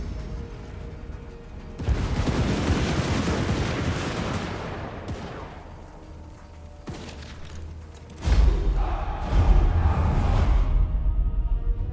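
Hand gunners fire volleys in a Warhammer video game battle, a dense crackle of gunfire and booms swelling into a roaring wash, followed by a second heavier burst of shots, loud and continuous with no speech.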